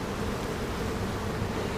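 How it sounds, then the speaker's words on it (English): Honeybees in a well-populated hive colony's upper super make a dense, steady buzzing drone, close and continuous throughout with no talking. "They're still working, plenty of bees up in the super"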